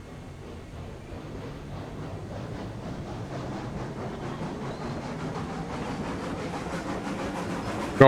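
A freight train runs along the rails in the Railroads Online video game, a continuous rumbling roll with faint rhythmic clacking that builds slowly in loudness, alone with no voices.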